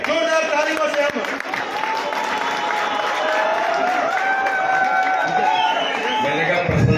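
Crowd at a BJP youth new-voter gathering in Sagar claps steadily throughout, with cheering voices and tonal chatter riding over the dense, continuous applause.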